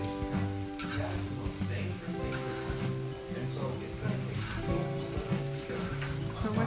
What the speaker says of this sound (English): I'm just keep mixing it until the noodles get really soft